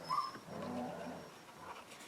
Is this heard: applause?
no